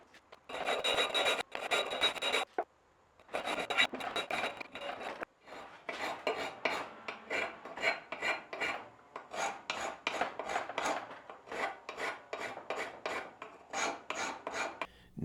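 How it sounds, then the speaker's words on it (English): A hand file rasps across a steel knife blank to cut bevels, in bursts of repeated back-and-forth strokes, close and crisp, with short pauses between sets and no talking. "Now it's time to file the bevels."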